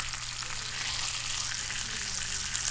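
Bacon frying in plenty of grease at a campsite, a steady close crackling sizzle that holds evenly without a break.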